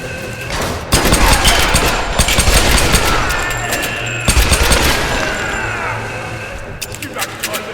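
Bursts of rapid gunfire from the Tomb Raider video game, dense volleys and single shots in two loud clusters with brief lulls, set against game ambience and continuous background talk.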